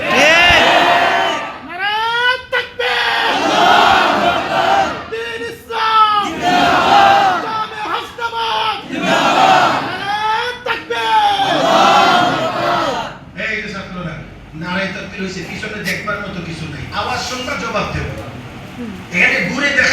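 A large crowd shouts the Nara-e-Takbir chant, loud massed voices rising in repeated rhythmic waves of call and response, close and dominant for the whole stretch.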